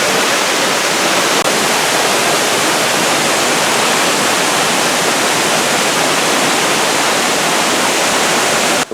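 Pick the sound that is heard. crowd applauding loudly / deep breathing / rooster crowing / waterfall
waterfall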